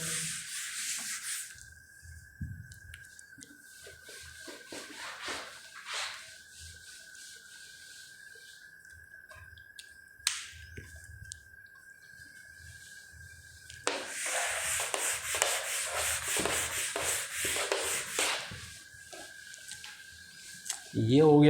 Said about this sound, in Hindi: ये हो गया अपना बोर्ड चिकना।